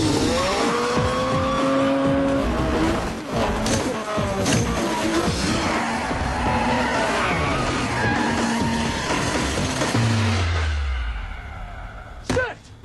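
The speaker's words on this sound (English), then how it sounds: "being driven by Brian, aka Paul Walker, who proceeds to have a pointless sequence to show us he can drive" A car driven hard in a Fast and the Furious film scene, with loud engine revving, skids and tyre squeals under music and effects, then a deep passing roar near the end before a brief hush.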